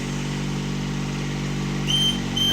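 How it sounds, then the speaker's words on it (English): Niftylift TD120TN boom lift engine idling steadily at close range with a constant low drone, a high whine rising near the end. "Start the engine."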